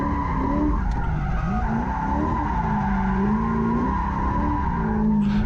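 Car tires skid and squeal continuously while the car drifts figure eights around cones on an all-concrete drift facility at Interstate Raceway, the pitch sliding and wavering with the engine droning steadily underneath.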